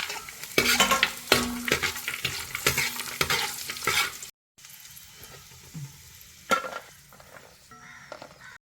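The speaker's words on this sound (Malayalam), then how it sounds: "ക്യാഷ്യൂ മുന്തിരിയും കൂടെ നമുക്കൊന്ന് വറുത്തെടുക്കാം" Cashews and raisins sizzle as they fry in ghee, with steady crackling and repeated spoon stirring and scraping against the pan, close and fairly loud. The sizzle cuts off abruptly partway through, then returns more softly with a few scattered clinks.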